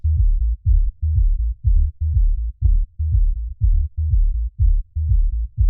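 A music loop runs through a low-pass filter so only the deep bass and kick survive, a muffled thumping pulse repeating in a steady rhythm, loud and close with everything above the low end stripped away.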